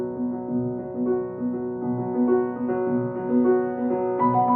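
Solo piano plays the closing bars of a piece with the sustain pedal held down, gentle repeated chords ringing together over a low bass, soft and unaccompanied.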